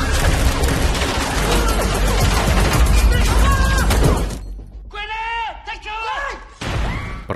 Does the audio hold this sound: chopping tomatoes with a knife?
no